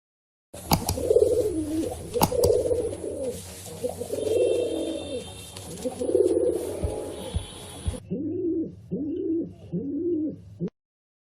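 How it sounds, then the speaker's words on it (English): A pigeon coos over and over in a steady rhythm of soft, throaty rolling calls, close and clear, with no talking. "that's a pigeon."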